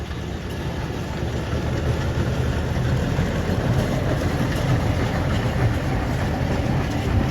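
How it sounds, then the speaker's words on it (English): Full-size vintage steam engines, around a hundred years old, roll into the show ring at a vintage rally, a steady low rumbling chug with faint clanking, continuous and moderately distant, with no talking. "So our full-size engines coming in the ring now."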